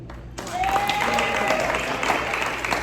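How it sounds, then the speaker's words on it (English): Applause from a seated audience at a senior chorale performance starts abruptly and continues as dense, even clapping for a couple of seconds, with a thin sustained tone audible briefly above the clapping. "And may we have a round of applause for Mrs."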